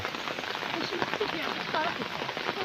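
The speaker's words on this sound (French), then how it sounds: "Deuxième heure de pluie consécutive à Paradisa." Steady rain patters on a surface at the Paradisa zoo, heard close and continuous as a dense hiss with scattered drips, and a few faint background sounds mixed in.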